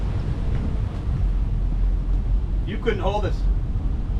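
Strong wind buffets a boat in open water, a steady low rumble and microphone roar running throughout beneath a person speaking briefly near the end.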